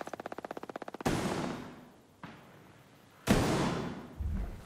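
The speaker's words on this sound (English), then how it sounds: "I hear gunfire." Video-game gunfire in Ghost Recon Breakpoint: a rapid burst followed by two heavy blasts with booming, decaying tails, close and loud against brief silence.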